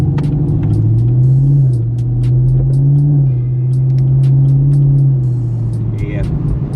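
A Chevrolet Camaro ZL1 1LE with its mufflers deleted gives a loud, deep exhaust rumble close by, its drone rising and falling as the engine revs, with some talking over it.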